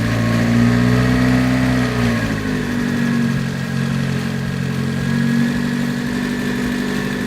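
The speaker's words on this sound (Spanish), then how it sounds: "aceleremos el carro a 1500" A car engine with an oxygen sensor under test, held at about 1500 rpm: a steady, close, moderately loud hum with a slight rise and fall in pitch, and no voices.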